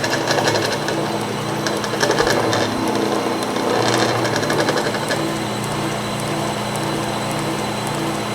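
A 1917 Avey No.1 drill press runs continuously up close, its motor bouncing with a loud, steady mechanical whir and a fine rattling chatter, with no voices.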